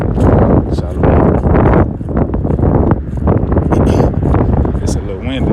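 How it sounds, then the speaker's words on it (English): Strong wind buffets the microphone outdoors in gusty roaring bursts, loud and close, while someone speaks over it throughout. "It's a little windy."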